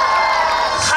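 A concert crowd at an outdoor music festival in Taipei's Huashan Creative Park gives a brief, loud, dense burst of cheering and whooping.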